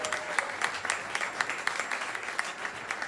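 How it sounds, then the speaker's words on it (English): An audience at a live Irish folk concert in Tübingen, Germany claps for the sound man, scattered individual claps standing out sharply over a thinner background of applause with some crowd murmur. "Round of applause for Werner."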